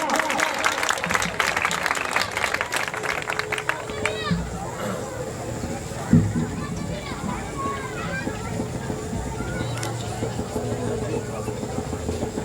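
An audience claps steadily to welcome a speaker to the stage at a gathering, a sustained moderate patter with voices talking over it and a low engine-like hum in the background.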